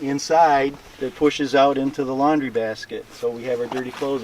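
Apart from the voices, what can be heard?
No distinct noise like a dog, phone or traffic.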